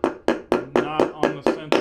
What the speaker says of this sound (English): So I'm just going to walk the bearing in, gently hammering the whole way around